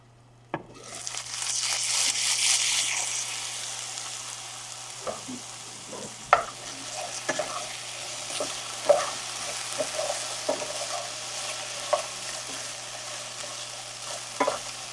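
Potatoes frying in a pan at breakfast: a steady, fairly quiet sizzle fills the clip, with occasional sharper clicks and scrapes as they are stirred, and no voices.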